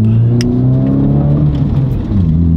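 A modified Honda Civic Type R FL5 revs loudly and close up, its engine pitch rising and falling in a strong, continuous drone, with no talking.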